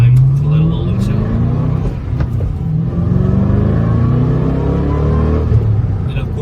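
A 2008 Ford Mustang Roush 427R accelerates hard in third gear, its loud V8 engine droning and rising steadily in pitch with a deep, continuous rumble up close.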